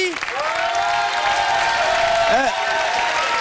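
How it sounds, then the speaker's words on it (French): Audience applause at a French stage event, steady dense clapping throughout, with a voice and some whooping or cheering rising over it near the end. "on les applaudit"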